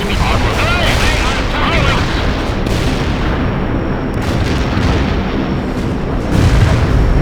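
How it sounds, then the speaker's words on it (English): Carpet bombing in the video game World in Conflict: a dense, continuous wall of rumbling explosions and booms, loud and unbroken throughout, with voices speaking underneath the barrage. "Bombing mission completed. We inflicted heavy damage on the enemy."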